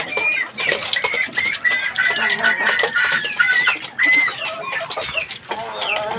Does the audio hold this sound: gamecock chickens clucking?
yes